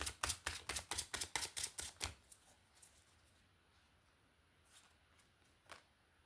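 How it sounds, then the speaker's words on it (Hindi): Tarot cards are shuffled by hand close to the mic in a quick burst of about a dozen crisp, rhythmic riffle slaps, followed by near quiet with a couple of faint taps. "एक लास्ट शफल लेती हूँ"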